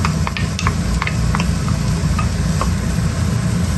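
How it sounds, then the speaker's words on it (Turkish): Chopped onion fries in hot oil in a pan with a steady loud sizzle, broken by a few light clicks and scrapes of stirring. No one speaks. "Şimdi soğanı ekliyorum."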